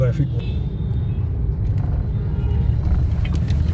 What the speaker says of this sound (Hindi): ट्रैफिक स्टार्ट हो गया है